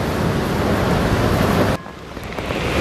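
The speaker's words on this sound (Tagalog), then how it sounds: "Malalaking alo." Big waves rushing and roaring in a dense, loud wash of surf mixed with heavy wind buffeting, ending in a sudden drop to a quieter lull.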